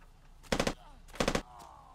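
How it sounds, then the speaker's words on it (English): Two short bursts of rapid M4 rifle fire from a video game, each a quick cluster of three or four cracking shots, fairly distant and quiet. "That was an M4."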